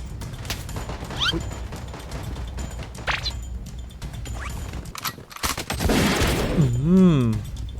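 Gunfire in the shooter game Blood Strike during a solo ranked match, heard as sharp shot bursts and clattering weapon sounds over a busy game mix, with a swelling whooshing effect near the end.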